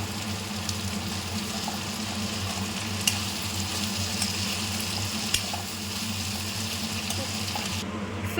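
Cluster beans frying in a pan after cooking soft, giving a steady, even sizzle that runs throughout with a couple of brief clinks and no talking.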